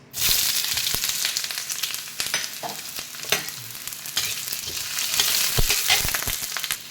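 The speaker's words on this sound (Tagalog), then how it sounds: "Pag mainit na, lagyan natin ng bawang. Bawang at sibuyas." Garlic and onion frying in hot oil in a pan, a close, steady sizzle with scraping and clinks from stirring, no voices heard.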